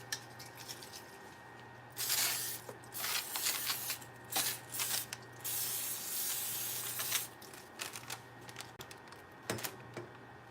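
Several short bursts of cooking spray hiss over salmon cakes in an air fryer, quick sprays clustered with brief pauses between them against a steady low hum.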